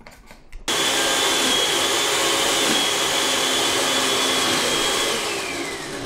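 A countertop blender blends sunflower seeds with a little added water, starting after a brief quiet moment and then running as a loud, steady whirring motor with a high whine throughout, easing slightly near the end.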